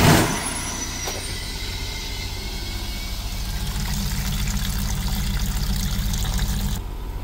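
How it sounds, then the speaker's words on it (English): A loud burst of pressurized air and water blasting through a Vauxhall Combo's diesel particulate filter starts sharply, then a sustained rushing hiss with a low rumble continues for several seconds before easing off. "fill the DPF up with water, and we can get ready to blast it through"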